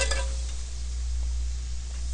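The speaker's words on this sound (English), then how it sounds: "So I'm going to start to turn my burner up a bit and get it really sizzling." Steady, close sizzling of sauce in a hot pan, a continuous hissing crackle with a faint clink at the start.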